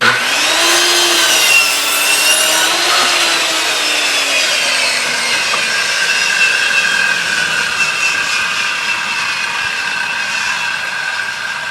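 A circular saw, guided by a speed square, cuts through a 2x4 board with a loud, steady whining rasp and a slowly falling tone, heard alone at close range for the whole stretch.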